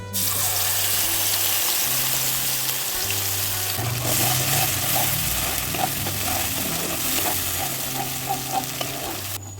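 Paste fries in hot oil with a loud, continuous sizzle, growing crackly and bubbly as it cooks, with a low background hum, while making a ridge gourd dish.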